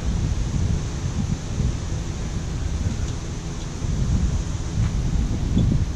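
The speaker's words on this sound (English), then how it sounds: "Wind is blowing, but it's a very warm wind." Warm wind blowing steadily outdoors on a hot day of about 100 degrees, a continuous broadband rush with low rumbling gusts that swell and ease, buffeting close to the microphone throughout.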